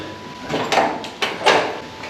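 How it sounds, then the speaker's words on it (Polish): An old door in an abandoned building on Ikeshima, a deserted Japanese island, creaks and bumps open in a few scraping surges, close and moderately loud, with no talk. "W końcu jakieś drzwi, które udało się otworzyć."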